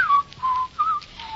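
A man whistles a short tune in three or four clear, bright phrases, close and alone, in a radio drama indoor scene.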